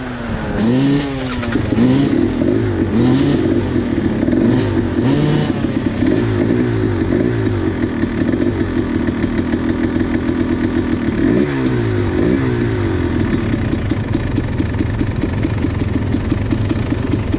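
An enduro motorcycle engine warms up at a trail enduro event, idling with a rapid clattering pulse and repeatedly revving up and down, loud and close throughout.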